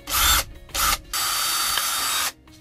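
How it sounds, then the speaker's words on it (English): A power drill fitted with a 3/32 inch bit bores a hole into soft wood. It comes through as three close, loud whirring bursts, the last one the longest, with no talking. "you're going to want to drill a hole just big enough to put the screw in"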